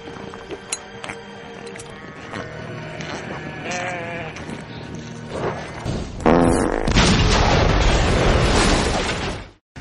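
Zombie sheep in the comic horror film Black Sheep bleat repeatedly amid a scene soundtrack, the calls giving way to a loud, sustained burst like an explosion that cuts off abruptly.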